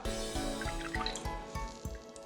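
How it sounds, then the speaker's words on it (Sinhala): Water drips and trickles from homemade cream cheese curds squeezed in a cloth, a close series of wet drops falling at an uneven, rapid rhythm. "මම වතුර ටික ඔක්කොම මිරි කරලා අයින් කරගන්නවා"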